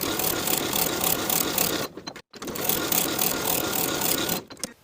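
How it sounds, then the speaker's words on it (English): A sewing machine stitching the pocket seams of a DIY cardigan, a steady fast mechanical whir running for about two seconds, a brief pause, then another long continuous run, close and loud. "we're going to sew both of those pocket seams with a 3/8 inch seam allowance"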